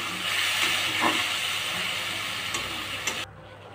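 Spiced masala with tomato fries in a pan, giving a loud, broad hiss of sizzling that holds steady for a few seconds and then suddenly drops away to a quiet background.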